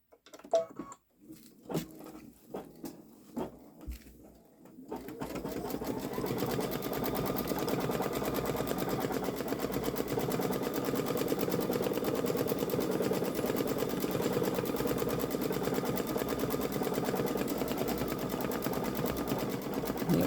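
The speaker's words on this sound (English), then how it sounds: "I'm going to put the presser foot down, tell it to do a stitch." Babylock Solaris Vision embroidery machine stitching, starting with a few clicks as it is set up, then settling into a loud, fast, continuous mechanical whirring and needle chatter close by that runs steadily without a break.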